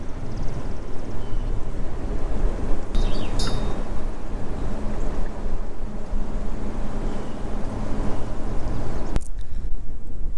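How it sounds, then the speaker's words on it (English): Heavy wind in Iowa buffets the microphone with a constant low roar and rumble throughout, loud and unbroken. "It is very windy out here in Iowa."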